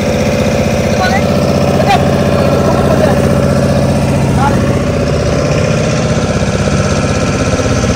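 A motor boat's engine drones loudly and steadily as the boat crosses Chilka Lake, a constant close rumble filling the whole stretch.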